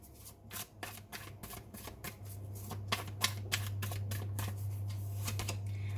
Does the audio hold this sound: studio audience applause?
no